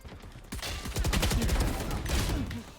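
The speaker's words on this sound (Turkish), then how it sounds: "Yandakini vuruyoruz diğeri geliyor vuruyor bizi ya." Rapid bursts of gunfire in the Valorant shooter game, dense repeated shots from about half a second onward, loud and close with a faint voice underneath.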